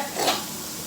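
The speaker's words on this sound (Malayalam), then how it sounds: "നമ്മൾ ചെറിയ തീയിലിട്ട് വറുത്തോണ്ടിരിക്കുക" Food fries on a low flame while being stirred, a brief soft sizzle with a scraping stir in the middle, close by and without talk.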